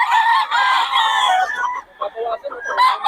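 A rooster crows at a farm, a loud, close cock-a-doodle-doo lasting over a second, followed by shorter clucking calls from fowl nearby.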